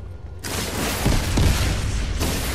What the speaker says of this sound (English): It uses SMG ammo, but you can shoot rockets